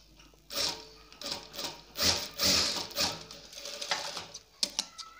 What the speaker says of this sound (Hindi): वो वाला मार्जिन हम यहाँ पे ऐड कर देंगे और सिलाई मार देंगे